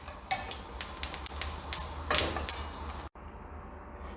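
Asafoetida and fenugreek fry in hot oil for a Kerala sadya-style sambar, a steady close sizzle with scattered crackles and a few sharp pops, stopping abruptly near the end before resuming more quietly.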